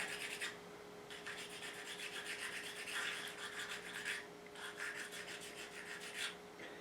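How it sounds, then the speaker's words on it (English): Sandpaper of 220-320 grit rubbing over a 12-string guitar nut, a steady close rasping scrape in repeated strokes with brief pauses, no talking. "I'm going to do some sanding on it to just make it look classier"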